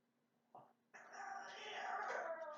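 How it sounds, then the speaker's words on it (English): A dog whining and whimpering indoors at people seen outside, a brief whine followed by a sustained, loud, wavering high whine that fills the rest of the moment. "I'm sorry if you can hear the noises of my dog."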